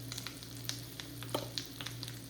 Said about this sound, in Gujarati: હવે એમાં નાખીએ જીરું, હિંગ, આચાર મસાલો થોડો,